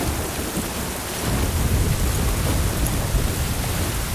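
A heavy thunderstorm lashes a river crossing, with dense, steady rain pouring down and a deep rumble of thunder swelling midway, loud and enveloping with no voices.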